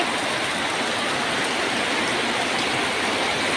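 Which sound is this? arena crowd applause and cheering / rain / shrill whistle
rain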